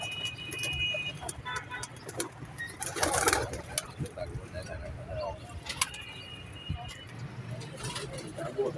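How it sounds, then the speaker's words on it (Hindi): Pigeons kept by a fancier murmur in soft low coos among other birds, with faint jangling and distant traffic. People talk nearby. "ये कबूतर अभी बैठा है,"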